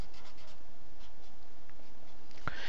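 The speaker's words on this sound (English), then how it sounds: "So I'm going to write the form down first." Pen or marker writing on a surface while working a slope-intercept algebra problem, a soft continuous scratching and rubbing with no talk over it, ending in one sharp tap.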